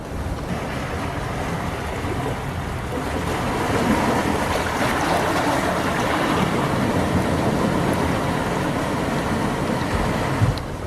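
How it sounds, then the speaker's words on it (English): Ocean waves wash steadily over a lava rock shore in the Azores, a broad continuous surf roar with wind buffeting the microphone, swelling slightly midway and holding at a moderate, close level without voices. "I'm walking on lava rocks on the ocean shore, trying to get good pictures of, you know, the waves and everything"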